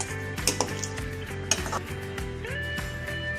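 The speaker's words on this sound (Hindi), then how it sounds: "बस इसको एक अच्छा सा मिक्स करते हैं ताकि जो ये दम में काली मिर्चें वगैरह डाली थी ये मिक्स हो जाए मसाले में।" Shinwari chicken karahi masala is stirred in a pan with a spoon over a steady, close sizzle, with a few sharp metallic scrapes and clinks against the pan.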